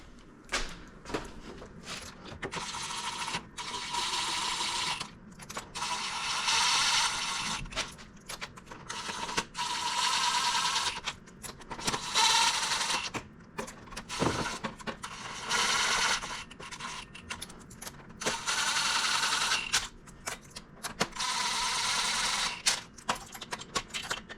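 Bolts are cinched down on a Ford SVT Focus with a ratcheting tool, making irregular runs of close, rough clicking and scraping that start and stop over and over.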